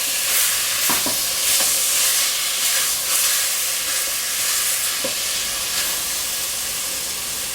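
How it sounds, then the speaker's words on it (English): Steak sears on high heat in a pan while being stirred, a loud hissing, steamy sizzle running steadily with a few sharp scrapes and knocks of the utensil, no talking. "I'm going to give this another stir."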